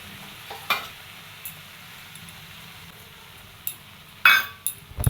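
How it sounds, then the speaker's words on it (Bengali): Taro-leaf and vegetable curry is stirred with spices in a frying pan, a soft steady sizzle under occasional sharp clinks of the spoon against the pan, growing busier toward the end. "এবার ভালো মতো মিশিয়ে নিব।"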